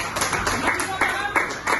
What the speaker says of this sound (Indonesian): Kasih tepuk tangan dong untuk Renata.